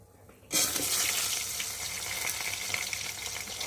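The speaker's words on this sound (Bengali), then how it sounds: "এখন এই যে কেটে রাখা সবজিগুলোকে দিয়ে ভালো করে কষিয়ে ভেজে নেব" Chopped vegetables go into a hot wok over a wood fire and burst into a loud, sudden sizzle that settles into a steady hissing fry, close up and without speech.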